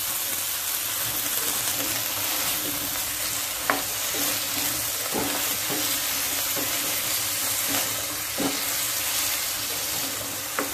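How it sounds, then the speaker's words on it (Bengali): Potatoes frying in a pan, a loud continuous hissing sizzle held steady throughout, broken by a few sharp clicks and scrapes of a utensil against the pan. "আলুটাকে আমি ভেজে নেব।"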